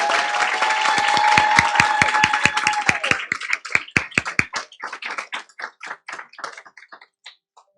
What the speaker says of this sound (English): So let's give another big round of applause to Farmer Teacher of the Year, Brittany Margaret and Casey Flores